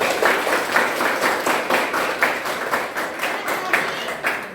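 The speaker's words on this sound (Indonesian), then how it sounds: "Tepuk tangan dulu." Classroom applause: a group of students claps steadily and rhythmically for several seconds, close and fairly loud, with no talking.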